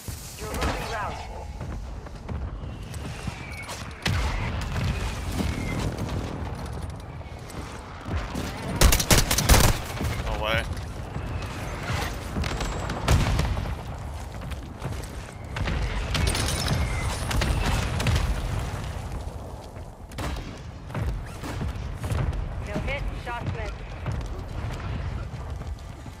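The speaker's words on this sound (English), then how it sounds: "Mortar support incoming. Copy that. Mortar strike inbound." A mortar strike in a tactical shooter video game lands as a series of heavy booms scattered across a long stretch, one loud cluster standing out midway, amid gunfire, mechanical clatter and radio voices.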